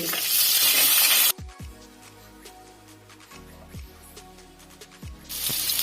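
A large tomato and green chillies sautéing with ginger and garlic for a Kerala fish curry, a loud sizzle at the start and end with quieter stirring and scraping clinks between.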